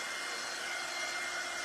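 A heat gun blowing over glitter glue on a painted tiered tray gives a steady, even airy whir that holds without a break for under two seconds, close and alone.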